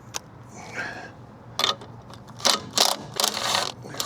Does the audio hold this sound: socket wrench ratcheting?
yes